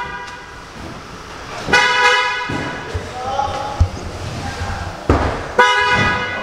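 A car horn honks from a vehicle on a street, with several short, loud toots spaced across the scene, close by and mixed with a voice talking and some thumps.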